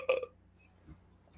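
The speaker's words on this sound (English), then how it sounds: "That was a terrible burp." A single loud, close burp bursts out at the start, then fades into quiet room noise with a faint low thump near the end.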